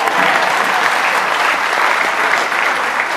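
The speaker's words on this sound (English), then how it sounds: "Give yourself a round of applause" A festival audience in Austin, Texas applauds at a film screening Q&A, a loud, dense round of clapping from a large crowd, continuous and close.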